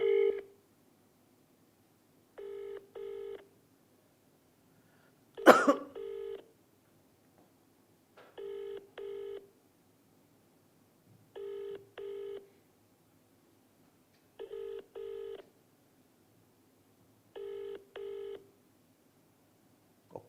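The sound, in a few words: telephone dialing and ringing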